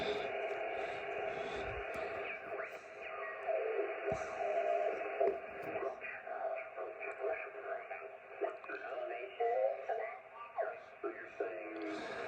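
Narrowband single-sideband ham radio voices on a Ten-Tec Paragon receiver with slow AGC come through a steady hiss, the audio band clipped top and bottom, levels held fairly even as the talk rises and fades.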